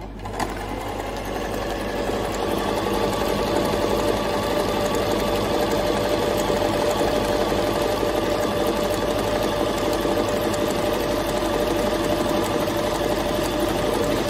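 A Janome 393 bag-sewing machine with a locking cover runs steadily on a stitch setting, its motor hum and rapid needle clatter continuous and close for the whole stretch, with no talking.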